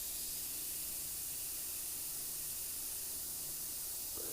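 An airbrush sprays paint with a faint, continuous airy hiss that holds steady throughout, with no talk over it.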